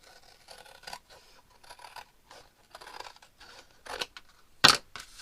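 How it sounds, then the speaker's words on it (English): Scissors cutting a section off a cardboard box, a series of close crisp snips and scraping cuts building to a few louder crunching snips near the end, with no talking. "And I'm going to cut this part off too."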